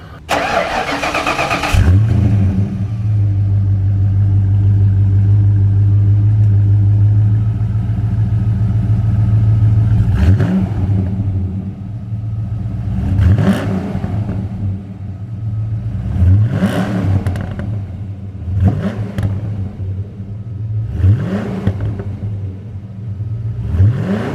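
An 87-93 Fox Body Mustang 5.0 V8 with modified headers starts with a loud bark, idles with a deep rumble, then gets a series of sharp throttle blips that rise and fall again.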